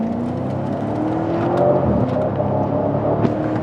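A BMW X5 with a turbocharged V8 and an X-pipe exhaust accelerates hard, its loud, steady engine drone rising in pitch and staying close throughout, with no voices.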